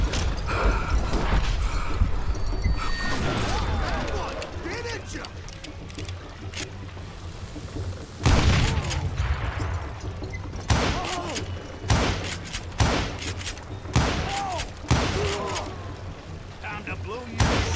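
Gunfire in the video game Call of Juarez Gunslinger rings out as repeated sharp, loud shots, with a heavy explosive blast near the middle, amid game ambience and occasional voices.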